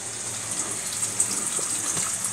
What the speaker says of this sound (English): when I turn on my faucet on, this comes out right here. Some water coming in.